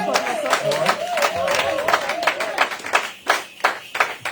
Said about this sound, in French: Por eso quiero que aplaudemos por nosotros.